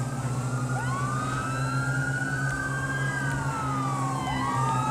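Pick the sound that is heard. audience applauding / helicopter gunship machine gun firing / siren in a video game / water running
siren in a video game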